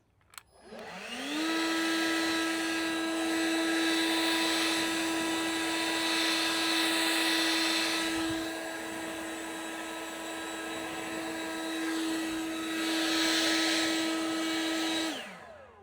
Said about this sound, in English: Now we've got the leaf blower.